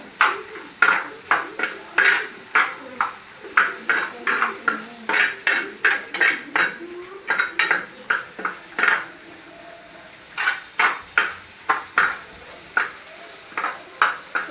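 Ingredients for a country-style mutton curry being stirred and sautéed in a pan. A spoon scrapes and clanks against the metal in a steady rhythm over a soft background sizzle, close and fairly loud.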